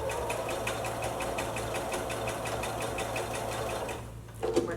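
A sewing machine stitches a Christmas stocking with a steady, fast mechanical chatter. The stitching stops near the end and is followed by a few brief handling sounds.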